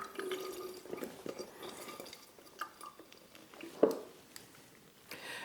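A fresh orange half is squeezed into a Tiki cocktail, giving faint wet drips and trickles into a glass, with a soft clink near the middle and quiet liquid patter around it.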